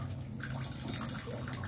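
Water sloshing and spilling from a cooking pot on a kitchen stove burner, a steady close splashing and trickling wash that continues briefly, with no speech.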